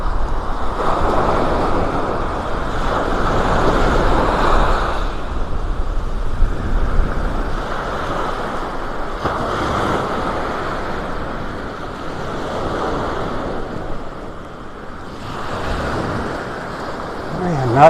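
Ocean waves wash steadily onto the beach at Delnor-Wiggins on an evening sunset walk, a broad continuous surf roar that swells and recedes in slow surges, with some wind noise against the microphone.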